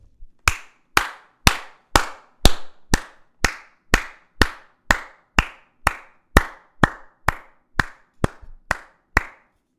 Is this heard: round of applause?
yes